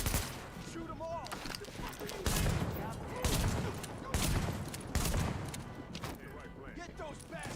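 Dense rapid gunfire in the video game The Division, with continuous volleys of shots and thuds throughout, loud and busy, mixed with voices talking over the shooting.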